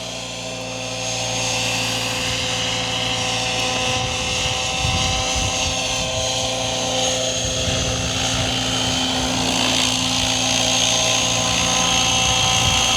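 An Align T-rex 700 RC helicopter hovers and floats around outdoors, its rotor and motor producing a steady loud whine with buzzing harmonics that swell slightly as it moves, continuous and alone without speech.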